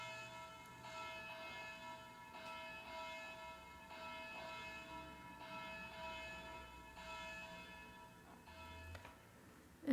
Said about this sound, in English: Let me toll the wedding bells.